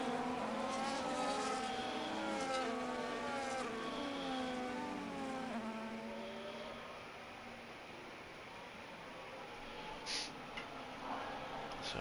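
F1 25 video game race cars circle the Qatar Grand Prix track slowly behind the safety car, some weaving to warm their tyres; several engine tones overlap and rise and fall steadily at moderate volume with no voices.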